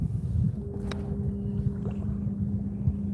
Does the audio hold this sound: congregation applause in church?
no